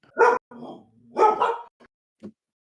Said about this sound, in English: There we get the dog out in Missouri. That's what a Missouri dog sounds like, Nick.